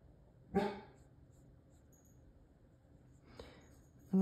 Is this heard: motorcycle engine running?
no